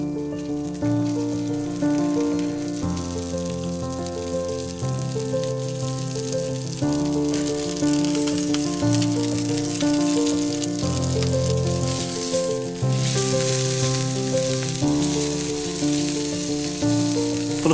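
Food searing on a hot griddle in a Thai royal court style kitchen, a steady close sizzle heard beneath prominent background music.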